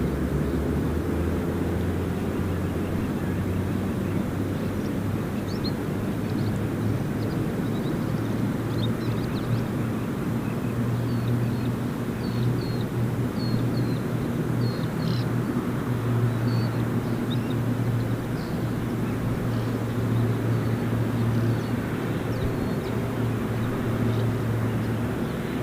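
A fixed-wing airplane taking off at Gold Coast Airport, heard as a steady, loud broadband roar with a low engine drone that holds for the whole stretch without easing, with no talking over it.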